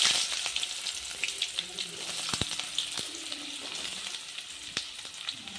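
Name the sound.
onion and mustard seeds frying in oil for tempering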